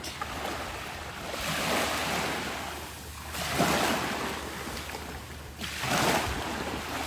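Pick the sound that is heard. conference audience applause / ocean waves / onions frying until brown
ocean waves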